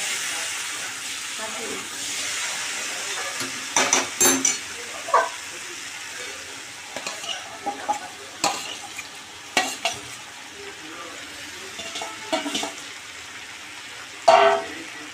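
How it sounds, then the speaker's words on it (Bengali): Spiced soybean curry frying and stirred in a pan, a steady sizzle with repeated scrapes and clinks of the spoon against metal, close and fairly loud. "ভালো করে আরেকটু মিশিয়ে নেব আমি।"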